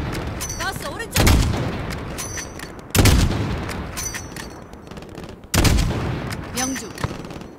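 Gunfire in Call of Duty: Modern Warfare: three loud, heavy volleys of rapid shots and booms arrive a few seconds apart, with battle din and shouted voices in between.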